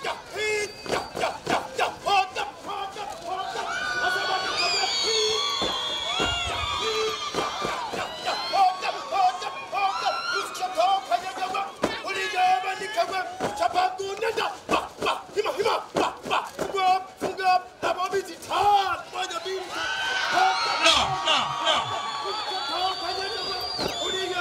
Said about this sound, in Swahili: Askari wetu, piga kelele nyingi kwa askari wetu